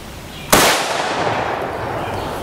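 A single loud, sharp rifle shot of a factory 7N6 round fired at an RMA armor plate on a range, a close crack followed by a fading outdoor echo and tail.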